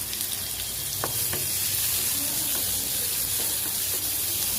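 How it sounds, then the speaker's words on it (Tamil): Onions, curry leaves and fennel seeds sauté in hot oil for a tomato chutney, giving a steady, close hiss and crackle broken by a few soft stirring clicks. "இதோட வெங்காயம் சேர்த்திக்கலாம். நல்லா வதக்கி"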